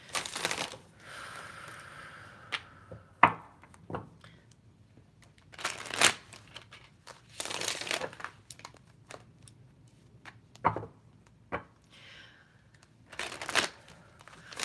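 Tarot cards being shuffled by hand, soft papery riffles and slaps coming in irregular bursts with quiet pauses between them, close up and fairly faint.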